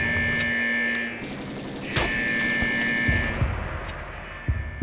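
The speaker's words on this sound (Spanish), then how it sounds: "¡Alarma! Hay alerta aquí." An alarm goes off in the video game XIII: a loud, continuous electronic buzzing siren that holds steady, with gunfire-like thumps and other game sounds scattered over it.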